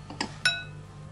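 Canned tuna tipped from its tin into a bowl for a quick salad, giving two light, ringing clinks close by, then quiet.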